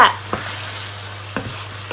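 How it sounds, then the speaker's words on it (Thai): Minced pork stir-frying in a hot pan without any vegetable oil, a soft continuous sizzle broken by a few sharp scrapes and stirs. "ตอนนี้เรามา รวนหมูก่อน"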